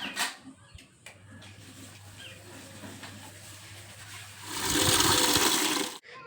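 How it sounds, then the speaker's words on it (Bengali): Water pours into a cooking bucket in a home, first as a low, steady trickle, then a louder rushing fill near the end that cuts off sharply. Faint bumps and knocks come before it. "রান্নার বালতিতে জল নিচ্ছিলাম"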